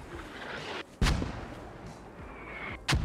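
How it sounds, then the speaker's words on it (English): Mortar fire in the video game Squad: two heavy booms land about two seconds apart over a constant rumble of battlefield noise, loud and somewhat distant. "If they can clear a hole with these mortars..."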